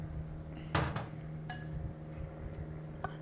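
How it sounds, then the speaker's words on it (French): Chocolate mousse is stirred in a bowl, giving quiet scraping and a few bright clinks of a utensil against the dish. One sharper knock comes early, and the rest is soft, close handling. "On mélange tranquillement."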